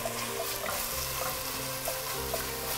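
Minced garlic and tomato paste sizzle steadily in a hot pan, a continuous frying hiss with soft stirring scrapes recurring throughout.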